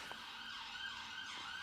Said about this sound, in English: there is a ambulance going past